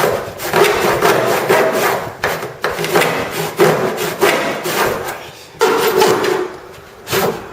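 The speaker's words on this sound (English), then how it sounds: "procurement of a saw so we can cut up the surfboard which we collected over in Loch Bay" A saw cuts through a surfboard picked up at Loch Bay in Bonaire. Steady back-and-forth rasping strokes repeat close to the microphone with brief pauses between bursts.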